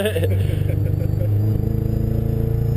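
A car engine idles nearby with an uneven, stumbling pulse from a misfire, and a voice speaks briefly over it.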